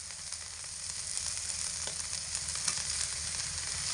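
Star fruit slices fry in a pan with a steady, close sizzle that runs unbroken from start to finish, no voices over it.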